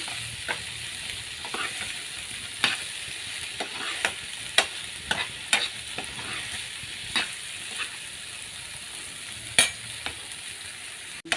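Spices sizzle steadily in hot oil, tempering for a sweet corn dish, with scattered clicks and taps of a spoon stirring the pan.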